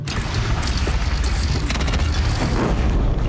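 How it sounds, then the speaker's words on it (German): Heavy cannon blasts in the video game Horizon Zero Dawn boom out in quick succession, deep and loud, with debris crashing between shots and no speech over it. "Das ist exakt die gleiche Kanone wie damals."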